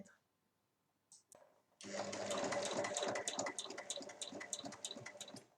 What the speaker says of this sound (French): je vais piquer ici tout du long à 1 cm